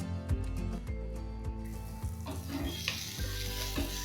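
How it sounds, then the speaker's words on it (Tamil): Spices such as chili powder and coriander powder sizzle and fry in hot oil in a pan, a steady crackling hiss with a few soft stirring knocks, close and fairly quiet. "இந்த மசாலா எல்லாத்தையும் இந்த எண்ணெயில் ஒரு 2-3 நிமிஷத்துக்கு நல்லா வதங்க விடுங்க."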